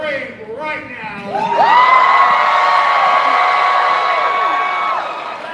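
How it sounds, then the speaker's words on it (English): Audience at a Knott's Scary Farm 50th anniversary panel presentation erupting into loud, sustained screams and whoops, with high shrieks rising together and holding for several seconds after a brief spoken lead-in. "I want you to scream right now."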